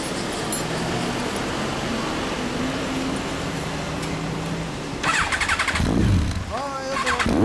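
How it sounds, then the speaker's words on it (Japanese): A 1999 Yamaha XJR1300 motorcycle fitted with a Wyvern exhaust idles nearby, a steady rumbling engine note, then revs up in several loud bursts near the end. "エンジンを聞かせてもらえる？"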